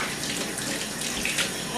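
Warm water runs from a tap to rinse a cat during a bath, a soft steady splashing stream heard close and alone for a brief moment.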